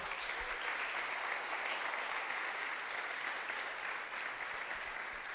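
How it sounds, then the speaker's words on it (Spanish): A church congregation at a Sunday service applauds steadily, a dense, even wash of clapping that holds at a constant level throughout, heard at moderate distance without talking on top. "Vamos a darle un aplauso al Señor."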